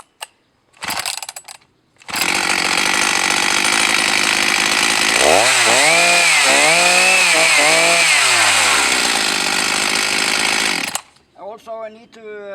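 A vintage Husqvarna 254G or Homelite XL 800 chainsaw starts with a brief sputter, then runs loud and close for about nine seconds. The pitch rises and falls as the throttle is revved, and then the saw cuts off.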